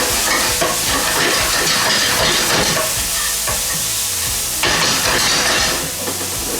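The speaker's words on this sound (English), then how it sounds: "It's got sesame seed oil, it's got ginger, it's got garlic, all just frying up nice and translucent." Onions, ginger and garlic frying in sesame oil in a pan, a dense, steady sizzle and crackle with occasional stirring scrapes, loud and close with no voices.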